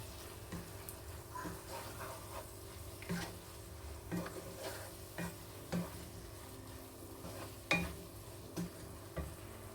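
Tomato and ground cumin mixture stirred in a pot, faint scrapes and soft knocks of a spoon repeating every second or so over a low simmering sizzle, quiet and close.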